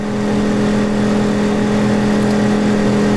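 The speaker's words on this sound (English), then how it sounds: "You can hear that generator. You can tell this is a heavy load for it." A CAT INV2000 inverter generator running under heavy air-conditioner load, a loud, steady engine drone with a strong hum, continuous and close throughout.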